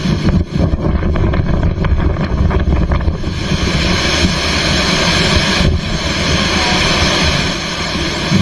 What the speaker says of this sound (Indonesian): jalan-jalan dan rumah terendam banjir saat angin kencang dan hujan melanda wilayah tersebut